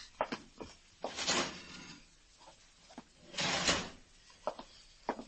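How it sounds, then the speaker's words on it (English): In a radio drama, a wooden desk drawer slides open and shut with two long scraping rumbles separated by soft clicks and knocks, heard close and fairly quiet with no talking. "Matt, hand me those mugshots of Charlie, left-hand drawer."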